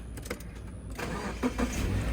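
An SUV with a boxer engine and keyless start fires up nearby: a short starter whir, a catch, then a rough rising idle settling into a steady low rumble.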